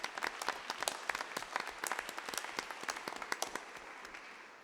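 Small audience at a school board meeting claps steadily for several seconds, a dense patter of individual hand claps in a room, moderately quiet and slowly fading toward the end.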